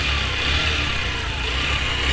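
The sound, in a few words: restored Yamaha YBR 125 motorcycle engine running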